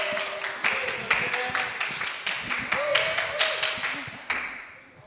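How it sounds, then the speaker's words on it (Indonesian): Audience clapping at a Youth Impact JKI Mawar Saron church service, a run of fairly sharp, rhythmic claps with some voices mixed in, fading out at the end. "Beri tepuk tangan yang meriah."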